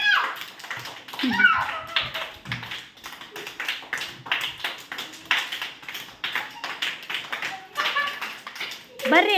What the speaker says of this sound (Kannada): ಚಪ್ಪಾಳೆ ಆಗಬೇಕು ಅವರಿಗೆಲ್ಲ